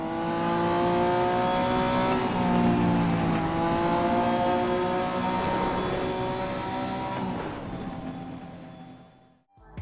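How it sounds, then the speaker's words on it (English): Racing car engine from the video game Need for Speed Most Wanted, a loud continuous roar with rising and falling rev pitch across several gear shifts, cutting off abruptly at the end. "Need for Speed Most Wanted delivered a racing experience like no other, blending speed, style, and danger into a heady mix"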